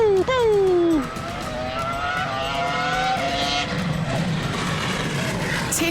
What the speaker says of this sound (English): the back wants to step out as he feed in 800 horsepower